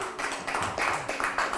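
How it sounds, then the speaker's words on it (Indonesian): Brief burst of hand clapping from a small studio audience at an Indonesian talk show, several quick uneven claps close by with no talk over them. "Memberi tepuk tangan dong."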